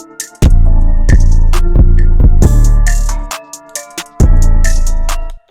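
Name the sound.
hip-hop beat drop with hi-hats and percussion removed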